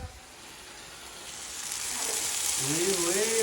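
Onions frying in a kadhai, a sizzle that builds from quiet to a steady, louder hiss within a few seconds, heard up close with a faint voice-like tone near the end.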